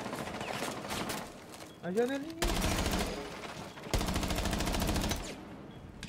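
Rapid automatic gunfire in Rainbow Six Siege, two long sustained bursts of dense shots with a brief voiced exclamation between them.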